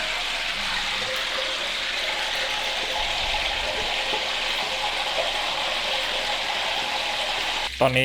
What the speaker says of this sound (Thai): น้ำมันที่เดือดนะครับ ก็เริ่มสงบลองทอดลงไป